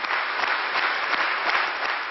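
Dense, steady applause fills the hall of the National Assembly at the Palace of Conventions in Havana as Raúl Castro, acting president, enters; a continuous wash of many hands clapping, loud and unbroken.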